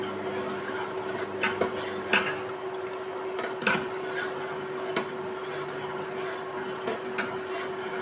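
Pumpkin kheer with milk being stirred in a pot, soft scraping and occasional clinks of a spoon against the pot at an irregular pace over a steady low hum.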